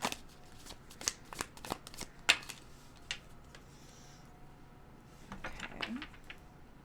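Tarot cards being moved aside and shuffled on a table, giving a series of close, crisp papery flicks and slaps in short irregular bursts, with a softer riffling patch near the end and no talking.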